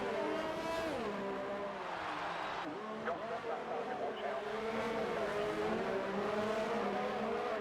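Racing cars lap the Azerbaijan circuit in a racing video game, engines whining and shifting pitch as they brake and accelerate, with some tire noise, under continuous commentary.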